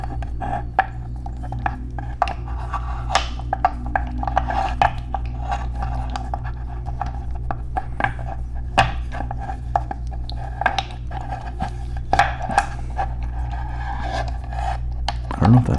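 Fidget toys handled up close produce a steady run of small clicks, clacks and scraping rubs, some taps sharper than others, over a low constant hum.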